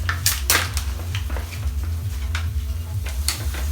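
Lardons sizzling in a frying pan, a close, steady crackling hiss broken by scraping stirs and light knocks of a utensil against the pan.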